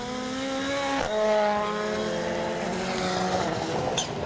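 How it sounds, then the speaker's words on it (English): Rallycross cars race uphill at Lydden Hill, their engines giving a loud, rising roar that climbs in pitch, breaks off sharply at a gear change and then builds again, with a brief high squeal near the end. "They accelerate their way, uphill then now."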